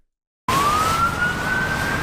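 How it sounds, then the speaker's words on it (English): Police siren wailing loud and close, a single rising then steady tone starting abruptly after a short silence and holding over broadband street noise. "the police sirens going off would drive me crazy"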